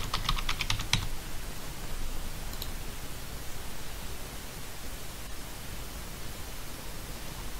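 Keys tapped on a computer keyboard while a search term is entered into an online advertising tool, a short burst of close clicks in the first second followed by steady low background hiss, with no talking.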